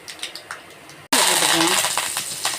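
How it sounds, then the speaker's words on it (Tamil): Mustard seeds hit hot oil in a pan to temper a coconut chutney. After a few light clicks, a sudden loud sizzle breaks out and keeps crackling and popping, with a voice talking over it. "கடுகு போட்டுக்கிடுவோம்."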